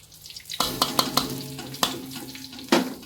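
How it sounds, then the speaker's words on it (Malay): Shallots and curry leaves fry in hot oil in a wok, giving a bright, continuous sizzle broken by several sharp clanks and scrapes of a utensil stirring against the metal, close and fairly loud. "kita tumislah bahan-bahan tadi, iaitu bawang merah dan juga hal bercampur ya, dan daun kari"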